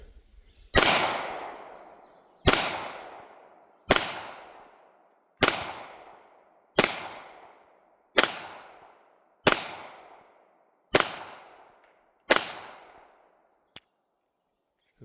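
Nine sharp gunshots from a Remington RP9 pistol firing 9mm at steel plates, evenly spaced with long ringing decay after each, followed by a short faint metallic click.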